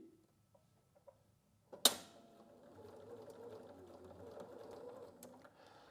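A Bernina sewing machine with a straight stitch foot (non-stick sole, narrow toe) topstitches a seam: a sharp click, then a steady, close mechanical whir with a faint ticking rhythm, and no voices.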